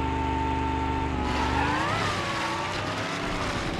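An electric funny car launching in a BeamNG Drive drag race, a loud sustained electric whine that rises in pitch as the car accelerates hard, with no talking.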